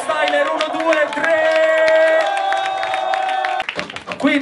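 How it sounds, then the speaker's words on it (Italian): Audience applause and cheering for two freestyle rappers at a cypher battle semifinal, a dense crowd wash with tonal voices on top that cuts off abruptly near the end. "Un applauso per i due freestyler"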